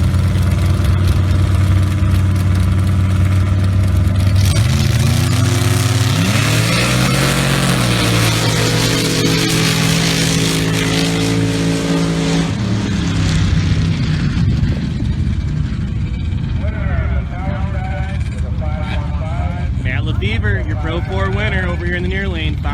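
Engines roar loudly at a sand drag race at the 2017 Las Vegas Jeep Club Sandbags and Hill Climbs during a Pro 4 final round, revving and rising in pitch before fading, with an announcer talking over the noise.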